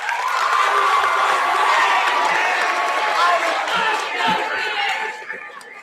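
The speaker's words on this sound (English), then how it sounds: "Give yourselves a round of applause." High school students at a culminating event clap and cheer for themselves, a loud sustained roar of applause, shouts and whoops filling the room before fading near the end.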